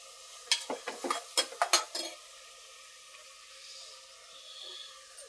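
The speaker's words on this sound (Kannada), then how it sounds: "ಟೊಮೊಟೊ ಬೇಯಿಸಿ ಚೆನ್ನಾಗಿ ಫ್ರೈ ಮಾಡಬೇಕು." Tomatoes fry in a pan for tomato pulao, with a quick burst of about eight sharp scraping stirs of a metal spoon against the pan, then a faint low sizzle left alone.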